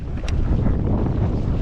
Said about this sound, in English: Oh, here's a gust.